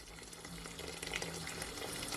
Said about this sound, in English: I'm gonna add some more of my water from my kettle.